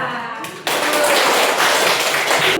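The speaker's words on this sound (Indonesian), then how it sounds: "Kita berikan aplaus kepada kelompok 2" Applause for a student group in a classroom, a sudden burst of many hands clapping together that starts abruptly and stays steady and dense for about two seconds before cutting off.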